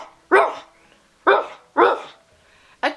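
A person imitates a dog's bark, cupping the hands into a snout: three loud, close, rough barks spaced about a second apart, then a fourth starting at the very end.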